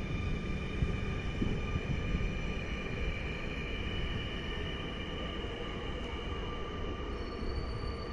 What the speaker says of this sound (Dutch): De SNG gaat toevallig nog rijden.